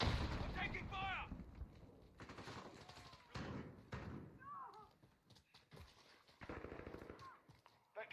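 Gunfire in a Call of Duty Modern Warfare multiplayer match, heard as bursts of rapid shots and thuds in the mix with game effects, moderately loud, alongside a person talking.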